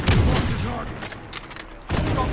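Gunfire in the battle royale video game Call of Duty Warzone, a burst of loud overlapping shots at the start followed by a rougher rattle of fire and a final blast near the end.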